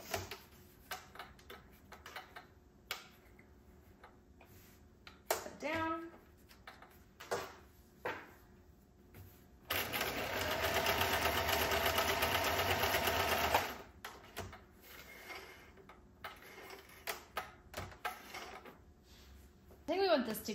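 A sewing machine stitches banquette seat fabric in a loud steady whir of about four seconds, between quieter handling clicks and rustles of fabric, with a person talking nearby.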